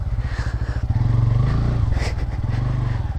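Motorcycle ridden on a road from Tripura toward Mizoram, with a steady, loud, close engine drone pulsing evenly throughout and a slight rise in revs partway through.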